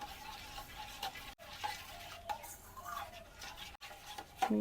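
A spoon stirs milk into bael fruit sherbet in a bowl with soft, quiet clinks and scraping swirls, broken by a few sharp taps against the rim.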